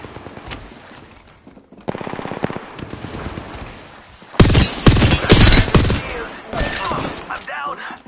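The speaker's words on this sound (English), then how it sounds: "They're shooting at me." Gunfire in a video game: sustained machine-gun bursts and loud rapid shots, close and heavy, with a brief quieter lull before intense firing resumes.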